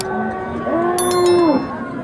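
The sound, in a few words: bulls mooing at a livestock market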